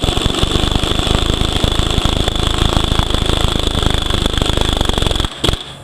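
A power tool hammers and whirs steadily as it drives the center support bolt into a 4L80E transmission, a loud continuous rattling impact with a high whine, stopping just before the end.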